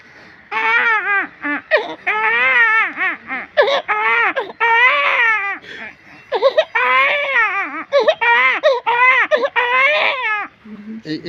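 A man vocally imitates a small baby crying, producing loud, continuous wailing sobs in repeated bursts with brief catches of breath between them, close to the listener throughout.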